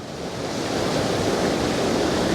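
Sea waves break into white water on the shore, a dense, steady rushing surge that swells slightly louder and stays close, with no talking.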